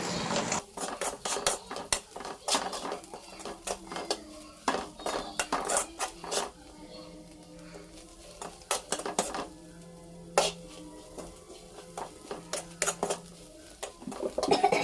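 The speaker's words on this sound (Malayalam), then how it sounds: "നമുക്കതൊന്ന് നന്നായിട്ട് ഇളക്കി കൊടുക്കാം" Beef curry with spices is stirred in a pot. A metal spoon scrapes and clinks against the pot in irregular bursts with short pauses, close and fairly quiet, and no one talks.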